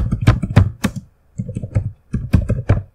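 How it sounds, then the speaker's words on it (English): Fingers type in bursts on a computer keyboard, close and clear, with quick clusters of key clicks separated by short pauses. "you can go ahead and type in system restore"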